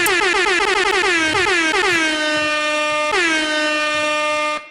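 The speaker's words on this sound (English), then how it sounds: "some guy with an air horn just keeps coming in and saying yeah." A loud, continuous air horn blast with strong stacked harmonics and a brief pitch dip mid-way, then it holds steady before cutting off abruptly.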